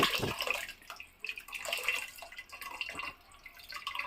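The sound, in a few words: water poured over tamarind in a bowl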